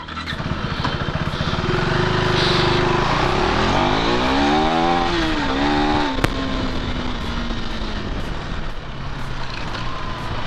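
A 2025 KTM Adventure 390X motorcycle rides steadily past, its engine droning loud and close, the pitch climbing and dipping through gear changes with one sharp knock midway, then settling to a steady cruise with wind noise.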